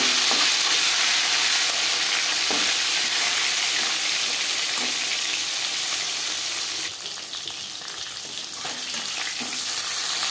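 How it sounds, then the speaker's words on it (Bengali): Marinated tilapia fries in refined oil in a pan, a continuous loud sizzle and crackle with occasional stirring clinks and a burst of sharper spitting partway through; no talking. "মাছ ভাজবার জন্য 5 চামচ রিফাইন্ড অয়েল গরম করে নিয়েছি। এবার দিয়ে দেব ম্যারিনেট করে রাখা মাছ।"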